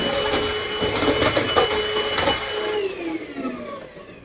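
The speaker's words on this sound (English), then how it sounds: "Okay, let's charge it, and I try to vacuum." A FirstLove cordless vacuum cleaner runs with a steady high whine and airflow rush, close and loud, then its pitch slides down as the motor spins down toward the end.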